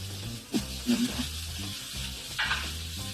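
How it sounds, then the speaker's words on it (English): Shrimp, scallops and mussels sauté in a hot pan, giving a steady close sizzle with a few sharp stirring scrapes and clatters over about three seconds, with a faint voice briefly in the background. "We're gonna saute these up, get these cooking."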